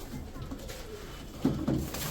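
Soft pigeon cooing, a couple of low murmuring coos near the end over faint background noise.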